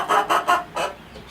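A pet hen that follows its owner around clucks in four quick, close, loud bursts, evenly spaced, then fades to quiet.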